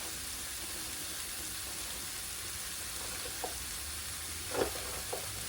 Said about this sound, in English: I added my olive oil, I added my bell pepper, my garlic, my tomato, my onions, and I stirred fried for, I would say, 1 minute.